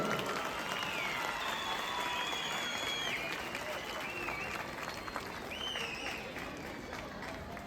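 Audience applause at a ceremony honouring European champion Zehra Nur Arslan and her coach, steady crowd clapping throughout with some voices and cheers mixed in.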